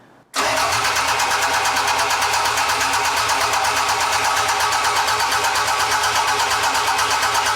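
Toyota MR2 engine cranking on the starter without catching, a loud, close, continuous rhythmic churning that begins abruptly after a short quiet moment and holds steady to the end.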